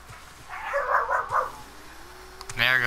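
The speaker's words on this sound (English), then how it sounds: "There goes the pit bull. What a terrifying bark." A pit bull barks in a few quick bursts close by, followed by a voice speaking over the end.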